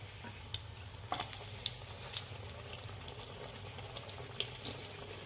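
Malpua frying in hot oil as more oil is sprinkled over the top, giving a quiet, steady sizzle with scattered sharp pops and crackles; no one speaks.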